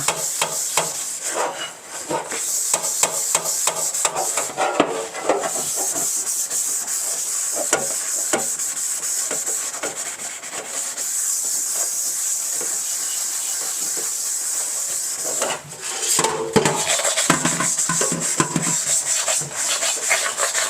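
Steady, vigorous scrubbing on a rusty iron wok continues for about twenty seconds, a harsh hissing rasp with brief pauses and a few knocks.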